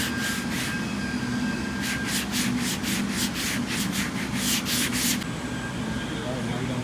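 A sanding block with 180 grit paper rubs over body filler on a hatch being resprayed, working in an X pattern. It gives a steady, loud, close abrasive scratching with a faster rhythmic stretch of strokes in the middle.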